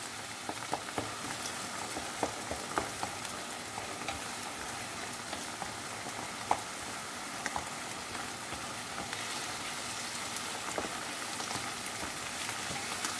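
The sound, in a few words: food simmering and frying in a pan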